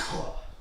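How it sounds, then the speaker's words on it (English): One short, close cough from a man, a single rough burst that fades quickly. "Had to cough there for a second."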